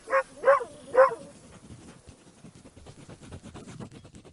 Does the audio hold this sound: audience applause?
no